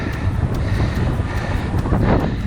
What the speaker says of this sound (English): It's very windy at the moment.